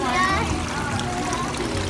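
Water splashes and trickles at a children's museum water exhibit, a busy, close wash of spatter mixed with children's voices and adult talk throughout.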